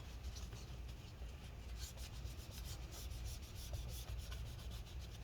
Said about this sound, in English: let's go ahead and wipe this off